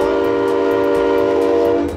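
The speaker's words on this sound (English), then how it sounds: "All right, blow the whistle in a pattern." A long, loud train whistle sounds close by, one sustained chord-like blast held for the full two seconds against a steady rumble, with no speech.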